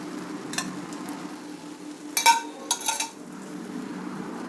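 Uttapam made from leftover rice frying in oil on a pan, with a quiet steady sizzle and a few metallic clinks and scrapes of a utensil against the pan, no talking.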